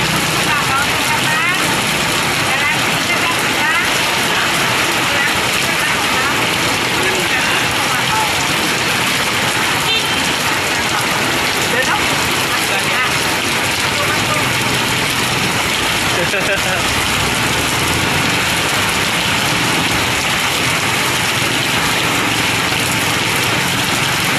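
Heavy rain pours down hard and steady, a dense, loud roar of water striking surfaces, with an engine idling faintly somewhere underneath.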